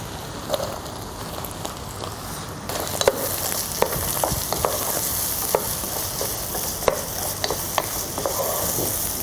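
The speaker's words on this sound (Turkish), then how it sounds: "Şimdi soğanını atabiliriz." Onion and browned meat sauté together in a pan for a broad bean (bakla) dish, giving a steady close sizzle broken by sharp spatula clicks and scrapes; no voices.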